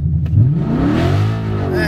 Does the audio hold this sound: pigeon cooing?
no